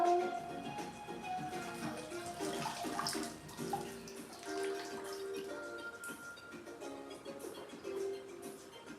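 Water pours steadily into a container, a continuous close splashing and gurgling fill lasting several seconds, with no talking.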